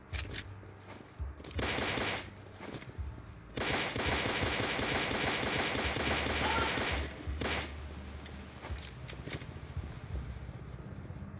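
Glock pistol fire in the CrossFire Mobile shooter game, zombie mode: loud, rapid volleys of shots in long sustained bursts with brief pauses between them, no voices.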